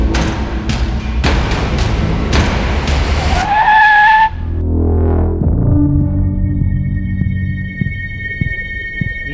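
Car arriving along a road: loud tyre skid and engine rush that cut off abruptly, followed by a quieter idling hum with a few light knocks.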